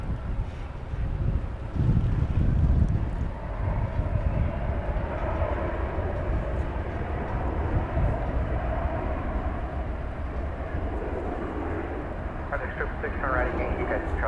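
Continuous low rumbling roar of a large aircraft engine at DFW Airport, swelling briefly early on then holding steady in the distance under wind noise and talk.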